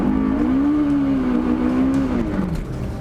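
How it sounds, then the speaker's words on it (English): Mazda MX5 or Honda S2000 doing a burnout to heat its tyres before a drag race, a loud, sustained engine drone holding high revs with a slight drop near the end. "Got to do a burnout to warm up the tyres."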